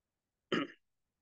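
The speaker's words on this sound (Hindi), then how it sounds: "सॉरी जरा खांसी है बेसिकली" A single short, sharp throat-clearing cough, close to the microphone, then silence.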